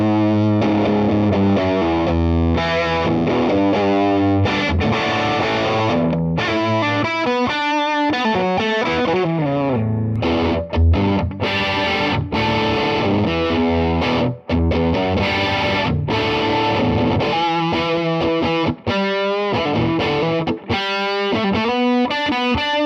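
A Les Paul electric guitar plays through an amp's top boost channel with the volume cranked fully, giving a heavily distorted, sustained tone with chords and single-note runs filling the whole stretch, loud and up close with no talking.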